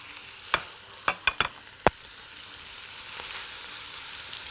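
Minced meat frying in a spoonful of oil in a pan, with a handful of sharp spatula scrapes and clacks early on, then a soft steady sizzle continuing close by, with no talking.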